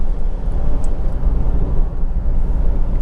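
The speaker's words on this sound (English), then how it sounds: "And there's no difference in the engine notes whether the clutch is in or out." Close, continuous low drone of a Honda CR-V 2.2 i-CDTi diesel engine idling, steady in level with no voices over it.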